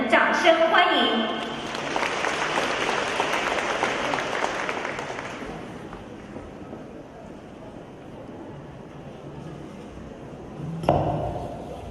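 An audience in a hall breaks into applause, a dense burst of clapping that swells for several seconds then fades, with a bright chime and a speaking voice over it.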